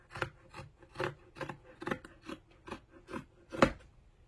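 Scissors snip through excess knitted sweater fabric in about ten quick, rasping cuts at a steady rhythm, close and fairly soft, with no talking.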